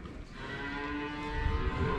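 Dairy cows on a farm at calving time give a long, low, drawn-out moo, loud and close, over faint farmyard background.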